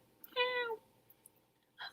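A person imitates a cat's meow with a single drawn-out, rising-then-falling meow, fairly close and clear, followed by a brief faint rustle.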